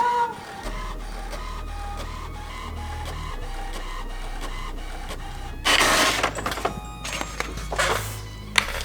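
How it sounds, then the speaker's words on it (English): An HP Envy inkjet printer running off thank-you cards, with a steady mechanical whir and repeated feed clicks, then louder bursts of paper-handling noise near the end, close by with no talking. "I have an HP Envy printer."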